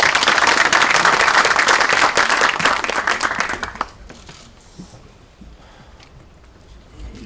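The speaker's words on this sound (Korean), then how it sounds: "큰 박수로 맞이해 주시기 바랍니다" Audience at a Korean political party joint meeting applauding to welcome a speaker: dense, loud clapping that builds and then fades abruptly into quiet room tone.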